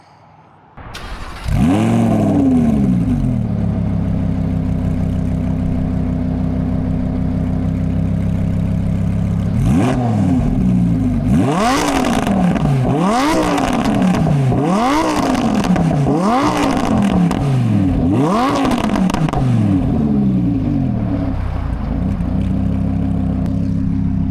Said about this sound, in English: So we'll throw a couple revs and let you hear this new Soul Performance exhaust